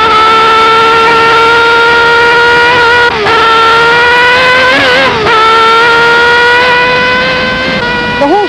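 A 1973 Formula 1 car accelerates out of the Nürburgring Nordschleife Carousel banking. Its loud, high-revving engine wail climbs steadily, with brief dips at gear changes, heard close up throughout.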